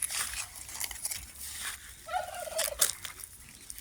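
Turkeys gobbling, a rapid warbling gobble call rising over a faint outdoor background, with scattered chirping birds nearby; no talk.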